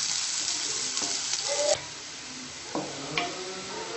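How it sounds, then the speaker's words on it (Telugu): Onions fry in a pan for a potato and green peas curry, a steady broadband sizzle with occasional spatula scrapes and taps, the sizzle easing partway through; no voices. "ఆనియన్స్ యాడ్ చేస్తాం. లైట్ బ్రౌన్ కలర్ వచ్చే వరకు ఫ్రై చేయాలండి."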